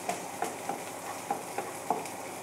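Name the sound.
onions frying in a pan for curry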